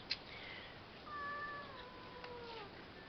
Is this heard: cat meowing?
yes